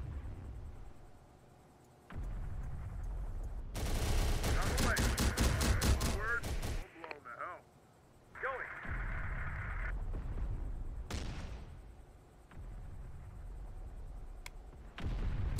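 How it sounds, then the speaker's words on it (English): HIMARS launcher salvoing six rockets in the Terminator RTS game: a loud, dense burst of rapid whooshing launches over a few seconds, followed by further blasts and rumble, with no one talking. "as you can see, a HIMARS, 6 rockets"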